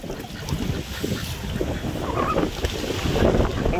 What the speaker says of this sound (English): Wow, it's windy out today.